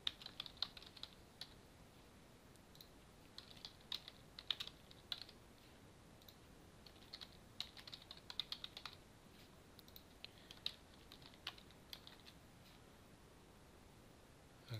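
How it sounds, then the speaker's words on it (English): Quiet typing on a computer keyboard while a home address is entered into an online crypto-exchange sign-up form, with irregular bursts of soft key clicks and short pauses, close and faint, with no talking. "you need to type in your home address"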